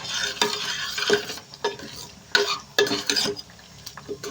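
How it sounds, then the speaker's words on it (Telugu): A spoon stirs tempering through cabbage dal in a pot, sharp irregular scrapes and clinks of metal against the pot over a soft sizzle, close and alone. "తాలింపు అనేది వేసుకున్నాం కదండి ఒకసారి మొత్తం కలిపేసుకుందాం"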